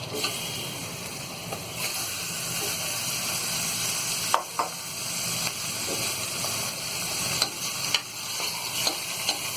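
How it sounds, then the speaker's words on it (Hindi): Mutton pieces fry with browned onions in a pan for a dhaba-style curry, a steady close sizzle punctuated by occasional scrapes and clicks of stirring. "तो गोश्त को हम थोड़ा सा फ्राई करेंगे"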